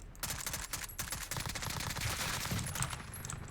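AS Val rifle fires in Call of Duty: Modern Warfare, with rapid sustained bursts of suppressed automatic gunfire rattling through most of the stretch, dense and fairly close with brief gaps.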